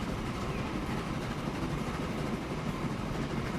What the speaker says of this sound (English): we'll just have a nice fast ride on the train